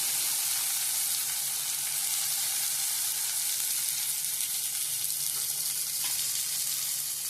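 Tomato sautéing with ginger-garlic paste for prawn thokku gives a steady, close sizzle that runs unbroken from start to end, with a few faint stirring scrapes and no voices.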